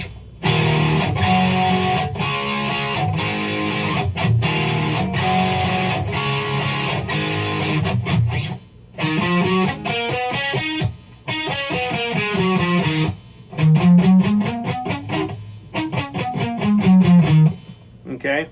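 An Ibanez RG470 electric guitar played through its single coil pickup with a distorted, effects-laden tone: rhythmic strummed chords first, then pauses and quick single-note runs, loud and close with no talking.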